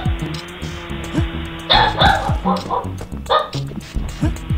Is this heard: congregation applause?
no